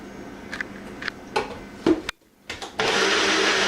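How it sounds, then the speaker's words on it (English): A blender starts up after a few short clicks and bumps, then whirs steadily and loudly as it blends a mixture, heard close by with no talk. "you blend this up for about 30 seconds"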